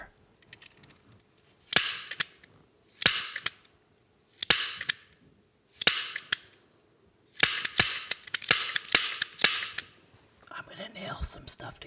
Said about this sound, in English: Here's a stapler.